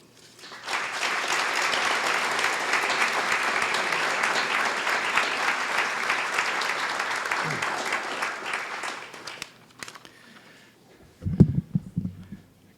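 Applause at a business forecast breakfast swells quickly into a full, steady round of clapping from the audience, holds for about nine seconds, then tapers off, followed by brief voices and room noise.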